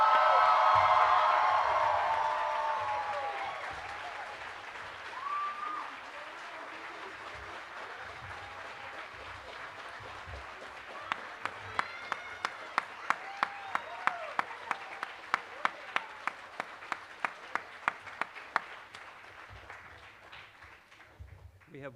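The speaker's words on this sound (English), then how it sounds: "Please join me in one final round of applause for the class of" A graduation ceremony audience applauds the class of 2025, a loud, broad wash of clapping at the start that slowly thins, followed by scattered rhythmic sharp claps and voices near the end.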